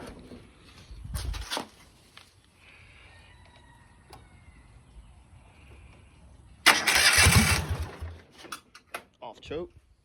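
A motorcycle being started on choke: short bursts of cranking and sputter, a quiet stretch, then a loud extended start attempt with engine catching and stumbling in uneven pulses toward the end.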